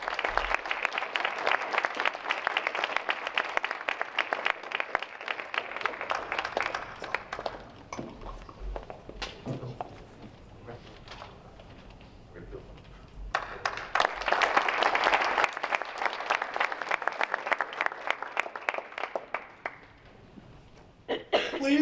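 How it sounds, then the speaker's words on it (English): Applause from a school audience at an MLK essay writing contest awards ceremony, sustained clapping that thins out midway with a few coughs, then swells again to a full round. "Please, one more round of applause for all of our student athletes."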